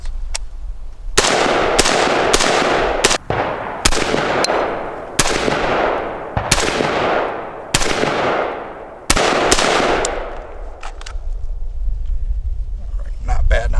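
Roughly nine sharp, loud 5.56 rifle shots fired one at a time at irregular intervals of about a second, each followed by a booming outdoor echo that trails off, with no voices heard.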